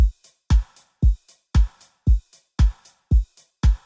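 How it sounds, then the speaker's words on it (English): A steady electronic house drum pattern: a punchy kick on every beat, each followed by a lighter, snappy hit with a short reverb tail, looping at a moderate tempo. "So the drums sound like this."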